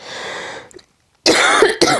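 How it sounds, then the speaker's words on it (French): Two or three close, harsh coughs after a short breathy sound and a moment of silence. "Je vais tousser"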